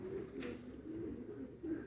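A racing pigeon coos nearby in soft, repeated low rolling phrases, faint and steady, with no talk over it.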